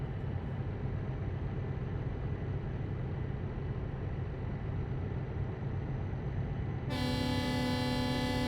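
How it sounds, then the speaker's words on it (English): Truck air horns blare in a tunnel during a convoy in a PC truck-driving game, a loud harmonic blast starting near the end over a constant rumbling engine and road drone. "I love the echo of the air horns in the tunnel."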